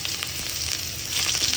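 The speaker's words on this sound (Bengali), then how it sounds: "তেলটা সামান্য গরম হয়ে আসলে আমি এর মধ্যে একটার মতো পেঁয়াজ দিয়ে দেবো" Onion dropped into a little hot oil in a pan, giving a steady close sizzle and frying hiss with faint stirring, heard alone.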